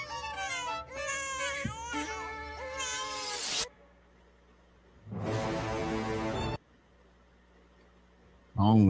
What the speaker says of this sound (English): Like a horror movie. Kids crying.